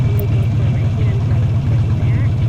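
Steady low motorcycle engine rumble and idle pulse as the clutch is eased out into the friction zone, continuous and close throughout.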